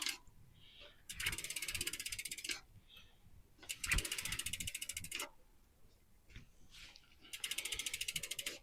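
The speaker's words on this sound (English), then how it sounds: "the wheel should spin super free and stop" A bicycle wheel spins freely after new disc brake discs and pads are fitted, with three bursts of rapid freehub ticking separated by quieter gaps and faint handling noise.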